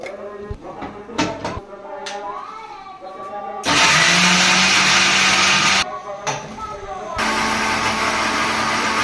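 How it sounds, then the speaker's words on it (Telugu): A kitchen mixer grinder whirs loudly in two long bursts as it grinds ginger and small onions, with a short pause between them and speech before the first run. "కిలోపు అయితే అల్లం చిన్నపాయ ఉన్నాయి కదా ఇంక ఇవైతే మిక్సీ పట్టేస్తుందండి"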